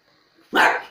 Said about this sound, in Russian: Маруша, хватит гавкать